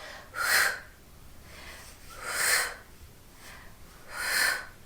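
Three or four short, sharp breathy exhales during an ab workout, spaced at an even rhythm roughly every second or two, close to the mic with no talking.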